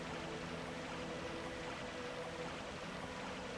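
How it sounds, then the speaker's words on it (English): A continuous churning, bubbling water-bath effect from Dark Souls plays at an even, unbroken level for the whole stretch, with no voices on top. "Gives you a little water bath."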